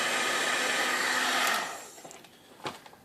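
An electric heat gun blows with a steady, loud airy whir while heating a threaded plug on a Chicago Pneumatic demolition hammer, then cuts off, leaving a few faint clicks and handling sounds.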